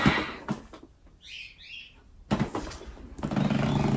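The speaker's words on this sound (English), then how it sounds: "Excuse the birds in the background" Birds chirp in the background indoors, a brief pair of quick high tweets in a quiet gap, framed by louder rustling and handling noises before and after.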